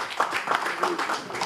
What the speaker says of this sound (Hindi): पूरी बेदारी के साथ तालियों के साथ इस्तकबाल करें जनाब राहत हरारत साहब